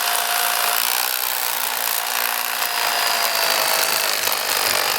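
An electric filleting knife buzzes steadily through a Northern Pike fillet, trimming meat away from the spine bones, a continuous close whine with a faint rasping texture and no speech.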